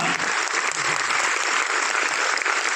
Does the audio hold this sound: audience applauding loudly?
yes